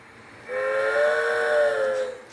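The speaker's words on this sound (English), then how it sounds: "And there's the whistle from the SP locomotive." An HO scale model of a Southern Pacific steam locomotive sounds its whistle in one sustained, clear, chord-like blast lasting under two seconds, loud and close over a quiet room.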